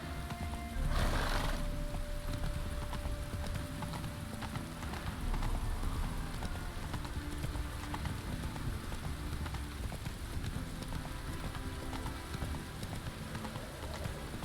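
Hooves of the horse Roach in The Witcher 3 clopping steadily under a constant hiss of rain, with a brief louder burst near the start.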